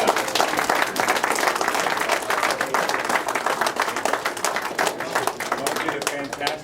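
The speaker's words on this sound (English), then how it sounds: "let's give a big round of applause to Mo" A crowd at a hall of fame induction ceremony breaks into a dense, sustained round of clapping and applause, loud and even throughout with no pauses.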